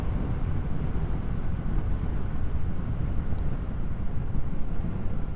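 Steady, loud wind roar buffets the microphone while riding a new Yamaha MT-07 motorcycle with an ineffective windscreen, a dense continuous rush filling the whole stretch with no pauses.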